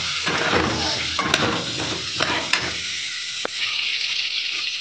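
Seasoned potatoes frying in oil for a chicken biryani, a continuous hissing sizzle close by, punctuated by a few sharp metallic clinks of a spatula against the pan.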